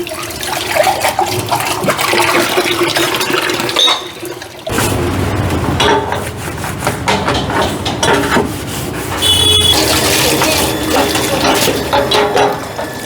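Water gushing from a motor pump at an outdoor work site in the rain, a steady loud rushing splash with mechanical churning throughout, briefly dipping near the middle.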